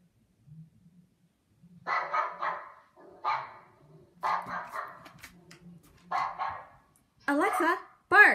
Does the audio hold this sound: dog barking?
yes